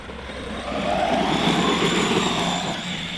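A Maverick Quantum+ XT Flux brushless RC truck on 2S under throttle, a rising electric whine and tyre rush swelling for about a second then easing off, heard outdoors at moderate distance.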